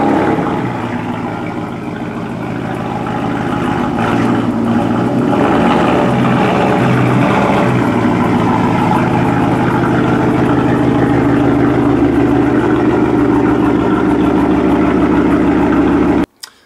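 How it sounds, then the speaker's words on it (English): Ford F150 pickup truck engine running at a low, steady idle while backing up, a continuous close rumble that holds evenly before cutting off abruptly at the end. "So I'm gonna back the truck in here so we have a little better lighting."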